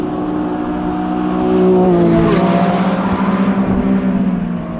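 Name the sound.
Lamborghini Revuelto V12 engine revving on track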